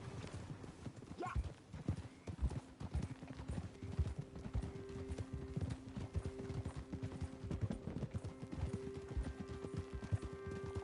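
Horse hooves clip-clopping steadily in Red Dead Redemption 2 while riding, a dense rhythmic patter close up with a brief whinny and some music and talk underneath.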